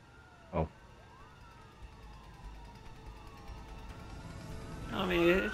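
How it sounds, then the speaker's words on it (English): A police siren wails faintly in the distance, its pitch sweeping up and down over steady background noise, with a voice briefly speaking near the end. "it's just sirens"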